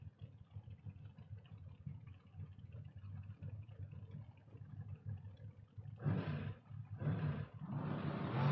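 A dragster engine at a drag race rumbles low and distant, then three loud roaring bursts rise near the end, each swelling and cutting off.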